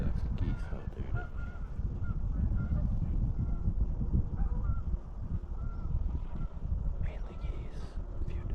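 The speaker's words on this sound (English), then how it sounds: "Lots of ducks and geese out there today." Geese honking with a few ducks on a Minnesota lake during a deer hunt, a steady outdoor chorus of calls blended with wind and a voice talking throughout.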